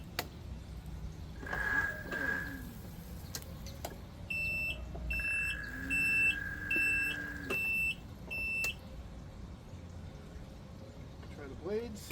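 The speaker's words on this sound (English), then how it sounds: "we got the reverse beep" Ryobi RM480e electric riding mower sounding its reverse warning, a run of short, evenly spaced high beeps following a couple of longer tones, moderately loud over a quiet background with faint sniffing and handling noise.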